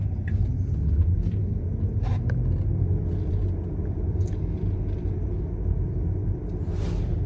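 A Tesla running Full Self-Driving 12.5.4.2 pulls away on downtown Chicago city streets, heard as a steady low road rumble and interior hum from inside the car, with a few faint higher clicks and a brief hiss near the end.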